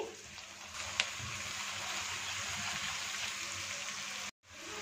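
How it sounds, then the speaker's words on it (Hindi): Onions with garlic and ginger fry in a pan for chicken pulao, giving a steady close sizzle with a faint stirring tap and a brief cut near the end. "इसके साथ ही लहसुन अदरक इसमें शामिल करेंगे। 2 मिनट तक इसे भी अच्छी तरह से भून लेंगे।"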